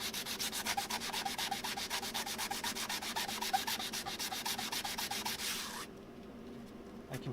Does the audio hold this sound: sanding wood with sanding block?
yes